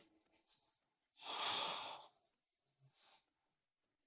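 A slow, deep breath drawn and released during a held yoga lunge, one broad airy swell in the middle with fainter breaths before and after, close and quiet with no talking.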